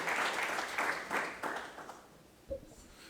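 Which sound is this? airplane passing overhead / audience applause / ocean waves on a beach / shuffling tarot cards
audience applause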